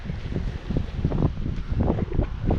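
Small waves lap irregularly against the Lake Erie shore under a steady low wind rush, close and moderately quiet, with no voices.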